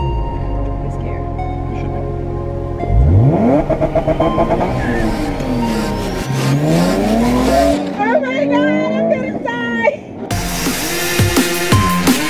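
A manual 500 HP car drives and accelerates, its engine roaring loud and close with rising and falling revs through gear changes, over a steady low rumble, while people talk.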